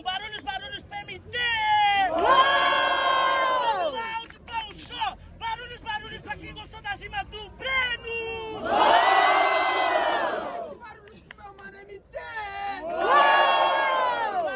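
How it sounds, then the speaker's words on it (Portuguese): A crowd at an outdoor rap battle in a public square erupts in repeated waves of loud cheering and shouting, with bursts between an emcee's amplified talk. "Barulhos pra quem curtiu as rimas do meu mano Breno"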